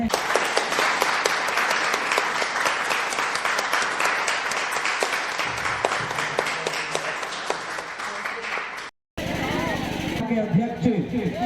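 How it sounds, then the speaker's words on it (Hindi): Dense, sustained audience applause fills a Durga Puja committee's stage event, loud and continuous for about nine seconds, then breaks off abruptly and gives way to a voice speaking over a murmuring crowd. "ताली में कंजूसी न करें, तालियों से ही पता चलता है कि हम किसी का सम्मान कर रहे हैं।"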